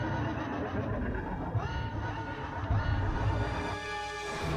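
A horse whinnies amid a dense, steady game soundtrack, with a sustained tonal chime rising near the end.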